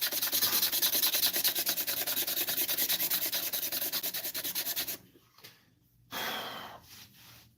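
Abrasive hiss of sandpaper rubbing a spinning slimline pen blank on a wood lathe, steady and rhythmic for about five seconds, then stopping, with a shorter burst of sanding afterward.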